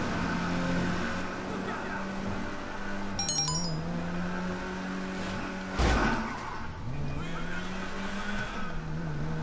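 A car engine hums steadily as the vehicle drives across town in GTA 5 Online, with shifting engine pitch, a brief sharp noise partway through and game background sounds throughout.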